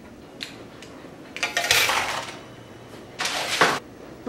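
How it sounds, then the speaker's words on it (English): Double chocolate rum cookies coming out of a home oven onto a wire rack, with two bursts of metallic clattering and scraping from the tray and rack, close and fairly loud. "I'll remove them from my oven and place them on my wire rack."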